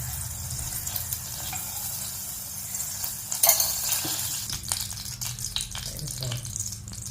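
Two spoons of oil poured over ghee in a pressure cooker for jeera rice, a soft steady hiss and sizzle with a few brief clinks and splashes building toward the end.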